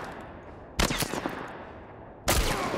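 Gunfire in a video game: two loud bursts of shots, one short volley followed by a second sharp burst after a pause, each trailing into a brief echoing decay.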